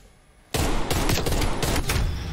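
Semi-automatic rifle fire in a sniper video game, a loud burst of rapid, closely spaced shots that breaks in suddenly after a quiet start and keeps going to the end.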